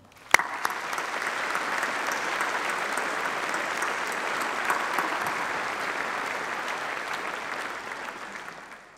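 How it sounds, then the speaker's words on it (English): A large graduation ceremony audience at UCLan breaks into sustained applause for staff. The clapping starts with a sharp clap, stays dense and even for several seconds, then begins to taper off. "join me in applauding them."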